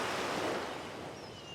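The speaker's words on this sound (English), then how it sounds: "If the water's on the right, you're hearing the water on the right." Ocean waves wash in a steady, broad surf roar with a soft wind-like hiss, continuous and moderately distant, with no voices.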